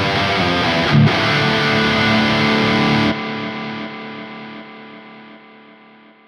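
A sustained, distorted electric guitar chord through the Archetype: Gojira X plugin's delay rings out, briefly cut near the start, then stops abruptly and leaves a fading echo tail.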